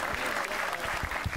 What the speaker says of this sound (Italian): facciamogli un altro applauso